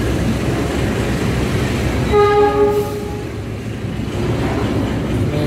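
The Taksaka passenger train passes slowly near construction at Manggarai Station, Indonesia, rumbling loudly throughout, its horn sounding a steady multi-tone blast for about a second midway, with no talk.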